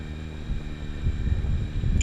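An FPV quadcopter drone flies with a steady high-pitched motor whine and low rumbling wind buffeting that rises and falls, fairly close and loud, no talk.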